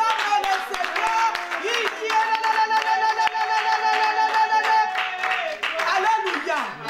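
A church congregation claps in a steady rhythm during worship, sharp hand claps over sustained singing and instrumental tones.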